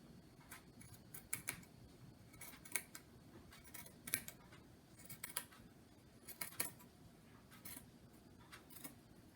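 Scissors cutting through a sock to make a sock monkey tail, a series of close, crisp snips in irregular bursts over quiet background.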